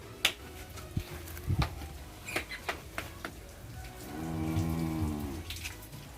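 On a cattle farm, a few sharp knocks and clatters come first, then one cow lets out a long, drawn-out moo, fairly close and clear.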